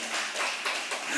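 A congregation applauds during a Korean church worship service, with many hands clapping together in a dense, steady patter that pulses slightly, heard as a brief, close burst.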